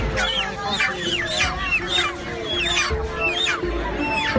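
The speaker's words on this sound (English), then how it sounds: "I know that each time you hold a chicken by its wings, it's very calm." Chickens cluck and squawk repeatedly in a steady, busy stream, several birds close by with overlapping calls and a constant low background rumble.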